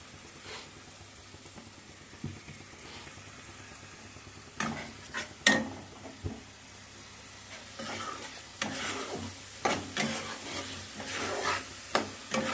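Curry paste fries in oil in a pan for prawn curry, with a soft, continuous sizzle broken by scraping stirs and occasional clacks of a utensil against the pan.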